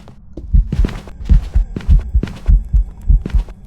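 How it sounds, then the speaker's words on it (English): Heavy, thudding footsteps of a ghost in the video game Phasmophobia, in a steady rhythm, low and booming, about a dozen close steps with no talking over them. "Hear the footsteps?"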